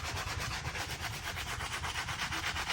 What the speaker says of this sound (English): So we're just gonna scrub over it with the rubber soles, and we're using the bristle brush with the cleaner and conditioner